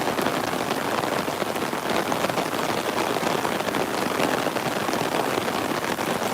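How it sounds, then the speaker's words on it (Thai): Heavy rain pours down steadily and loudly, a dense, unbroken hiss of drops hitting surfaces all around, with no voices. "คุณผู้ชมดูฝน ไม่น้อยเลยนะครับ"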